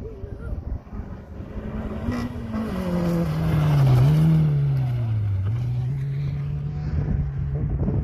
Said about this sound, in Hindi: बहुत ज़बरदस्त कार रेसिंग आज हम लोग आए यहाँ पर लाइव देखने के लिए कार रेसिंग